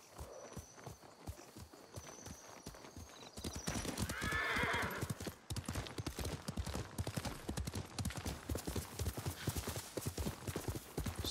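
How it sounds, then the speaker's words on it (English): Video game horse hooves clip-clop in a steady rhythm, close and clear, with a loud neigh partway through as the horse keeps trotting. "Kage, the impervious horse."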